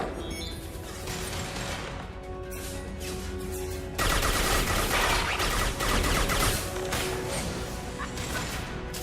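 Gunfire and crashing impacts in the Xbox 360 video game Mass Effect 2, dense continuous combat noise with rapid bursts and heavy hits layered over a steady game soundtrack, loud throughout.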